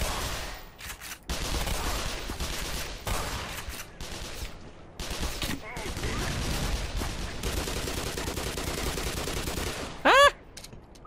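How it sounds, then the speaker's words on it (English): Sustained bursts of rapid gunfire mixed with booming explosions in the video game Black Mesa, loud and chaotic, with a sharp metallic whine near the end. "there is explosions coming from somewhere, but I don't know where they're coming from"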